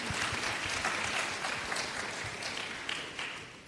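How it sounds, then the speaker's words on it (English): A conference audience applauds with dense, continuous clapping that fills the room, steady and fairly loud before tapering slightly at the end. "Let's give all of us a big round of applause."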